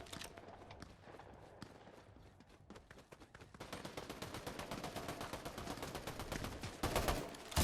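Rapid bursts of gunfire in the video game Fortnite, played on an upgraded PC with a Ryzen 5700X3D, RTX 3070 Ti and 32 GB RAM. Sparse shots at first, then dense steady automatic fire that grows louder toward the end, with no talk.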